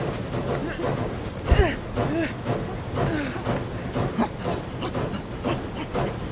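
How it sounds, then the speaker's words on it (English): A steam train arrives in a Tintin Reporter: Cigars of the Pharaoh video game cutscene, with a steady hissing rumble under character voices. "The train is coming."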